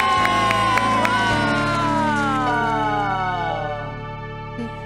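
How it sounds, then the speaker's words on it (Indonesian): Children at a church kids' worship service cheer and shout loudly as a crowd, with sustained musical tones underneath, the noise tapering off toward the end. "tepuk tangan"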